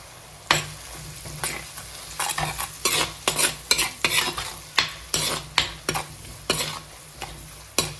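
Onions with turmeric and salt are sautéed in a pan for a Kerala fish curry. A spatula scrapes and knocks against the pan in a brisk, irregular rhythm over a low steady sizzle.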